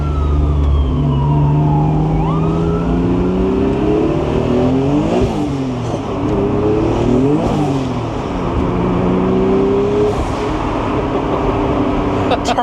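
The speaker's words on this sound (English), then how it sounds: "Turbo sounds, baby." Twin-turbo Acura NSX engine revving hard, with rising and falling pitch sweeps as it accelerates and shifts, plus turbo whistle above a loud, continuous engine drone.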